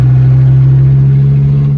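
A 1993 Dodge Viper RT/10 V10 pulls hard after a gear change, its deep, steady engine drone loud and close throughout, with no voices over it.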